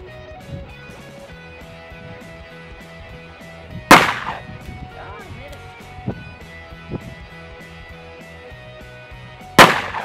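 Two sharp, loud shots from a Smith and Wesson 686 revolver fired one-handed at a soda bottle 15 yards away, spaced several seconds apart with quieter outdoor background between them.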